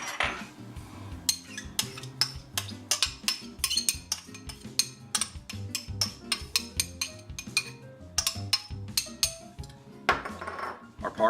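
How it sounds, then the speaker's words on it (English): Chopped onions are added to a tuna ball mixture in a bowl, with repeated close clinks and scrapes of a utensil against the dish in an uneven rhythm. "let's go ahead and add our onions on in."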